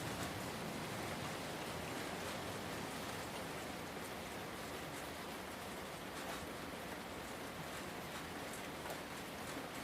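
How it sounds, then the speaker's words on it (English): Steady rain falls continuously, a soft even hiss of drops on surfaces, fairly quiet and unbroken, with no voices. "The rain is steady."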